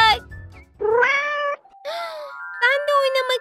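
A kitten meows several times in a row, the calls high, drawn out and fairly close, with short gaps between them and no talk over them.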